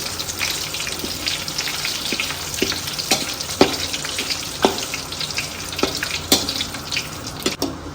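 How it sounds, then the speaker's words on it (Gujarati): Curry leaves fry in hot oil for a Gujarati papad pauva chevdo snack, a steady close crackling sizzle broken by sharp spitting pops scattered throughout, with no voices. "કઢી પત્તાને તળી નાખીશું."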